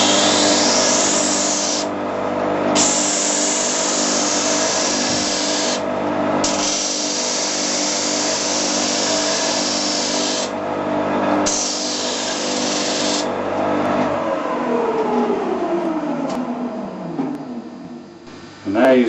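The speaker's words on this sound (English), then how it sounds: "start the machine, and then you have a traditional sand" A Shopsmith woodworking machine runs while sanding, a continuous droning hum with a high whine that briefly dips a few times. Its motor then spins down audibly near the end.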